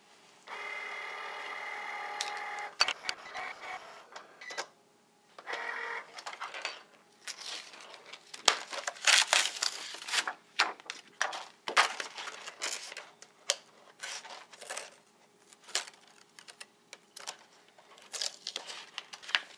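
Cricut Explore cutting machine slicing craft material, a whirring carriage motor at first, then a long run of quick irregular clicks, taps and buzzy bursts as the blade head moves back and forth, close and fairly quiet, no talking.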